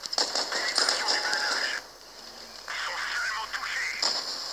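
Machine gun fire from a tank in World of Tanks rattles in two sustained bursts separated by a short pause, loud and close, with game-style crackling.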